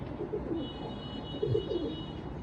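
Pigeons coo in low, soft rounded phrases amid a steady background hum, with a couple of fuller bursts partway through, recorded at a pigeon market.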